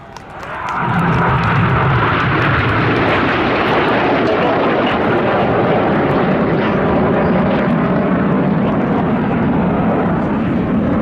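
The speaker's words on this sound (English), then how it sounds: "There's one aircraft, there's two, there's three. Oh, no, there's four as they perform the Tempest." Red Arrows jets of the Royal Air Force roaring past at the Midlands Air Festival display, a loud sustained rushing engine roar that swells in quickly and holds steady, heard from the crowd line.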